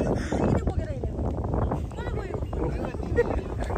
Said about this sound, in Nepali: हावा चलिरहेको